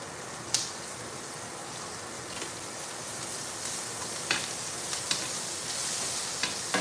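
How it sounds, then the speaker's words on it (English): Onions sautéing in a pan give a steady, close sizzle and hiss throughout, broken by a few brief crackles and the occasional stir, with no talking. "You want to saute the onions down."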